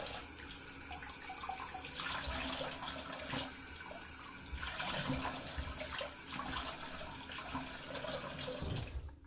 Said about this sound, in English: do a cold water rinse to help close the pores and everything